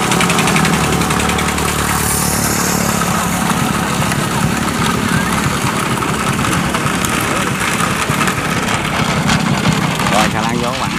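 A barge engine idling loudly nearby at the Tà Niên saltwater sluice gate, a continuous heavy throbbing drone that stays steady throughout.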